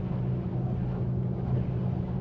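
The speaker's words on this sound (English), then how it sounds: "But you do hear the rush of the water" Water rushes steadily against the metal hull of a Viggo C8 30-foot leisure boat cruising at speed, a constant broad wash with engine drone low underneath and some wind buffeting the microphone.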